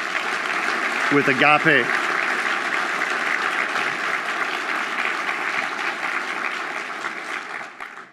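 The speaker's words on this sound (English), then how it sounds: "we'd do everyone a great favor if we'd give Leanna and her team and everybody a round of applause" An audience at the Agape banquet '21 claps in a sustained, even round of applause, while someone briefly speaks over it near the start.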